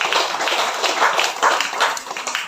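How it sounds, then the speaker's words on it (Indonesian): An audience claps for hostel children at an end-of-year community visit, a dense and lively round of applause heard close and fairly loud throughout, with no talk over it. "Aplaus untuk anak asrama kita."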